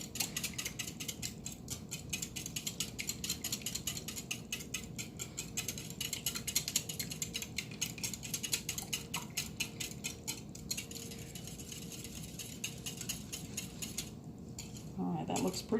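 A utensil whisks ricotta in a bowl for meatball mixture, a quick even rhythm of soft scraping and tapping against the bowl, steady and close but quiet.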